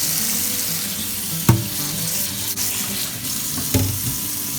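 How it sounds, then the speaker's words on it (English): Cold tap water pours over butter beans in a colander in a kitchen sink, a steady close splashing rush broken by a couple of sharp metallic clunks. "Drain the butter beans into a colander and then rinse with cold water"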